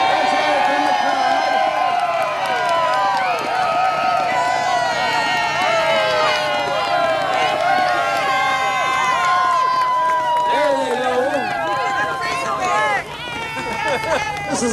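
A big outdoor crowd at a hot air balloon festival cheers, whoops and claps for costumed contestants, a loud sustained roar of voices with overlapping shouts that eases slightly near the end.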